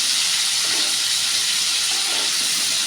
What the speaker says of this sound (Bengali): যে চিংড়ি মাছটা ভাজা বসিয়ে দিয়েছি, একটু হালকা করে একটু ভেজে নেব।